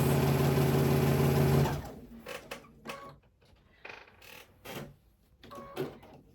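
A sewing machine stitching a quilt block for a hen house quilt, with a loud steady mechanical run at first, then stops into scattered creaks and clicks of handling.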